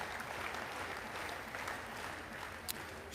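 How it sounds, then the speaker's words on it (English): A crowd at a women's Bike Trials World Cup final in France claps steadily while a rider attempts a tall move, a dense, even wash of applause with faint cheers, heard from within the stands. "The crowd are getting behind her."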